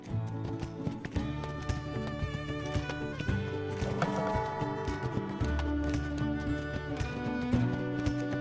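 Horse hooves clip-clop steadily as a horse is ridden through the open world of the Spirit video game, set against a dense, continuous game music score with an occasional whinny.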